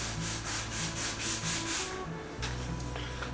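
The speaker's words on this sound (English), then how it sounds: "Seems like I can sand and scratch this up." Steady back-and-forth sanding of a chrome universal coolant tank, close and rhythmic with even strokes, then a short pause before a rougher scratching pass, with no talking.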